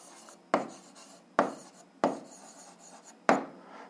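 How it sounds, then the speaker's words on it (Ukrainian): Pen or pencil writing an algebra answer by hand on paper, heard as four sharp scratching strokes spaced about a second apart over a quiet background, close and clear with no talk. "Записуємо відповідь, пишемо відповідь."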